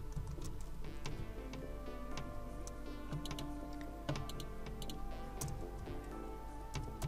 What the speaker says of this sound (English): I'm going to add in a hashtag as it's an ID, and I'm going to type in sprites